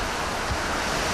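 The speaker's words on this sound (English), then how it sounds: "Tokyo takes a battering from high winds and driving rain." Typhoon in Tokyo bringing high winds and driving rain: a steady, loud broadband roar of wind and rain that fills the whole moment without pause, with no voices.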